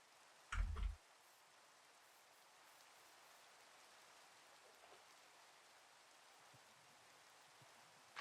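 Steady, faint rain falls in a Minecraft world, a soft continuous hiss with one brief louder bump near the start and no talking.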